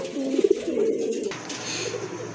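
A pair of Danish pigeons giving a short run of low throaty coos up close, fading after about a second into quieter background hum.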